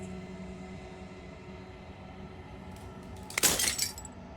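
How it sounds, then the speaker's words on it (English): Glass shatters in the video game Slay the Princess: a quiet low hum gives way to one sudden, bright burst of breaking glass followed by scattered tinkling fragments that fade out. "As the final fragment of glass shatters, you see yourself with newfound clarity."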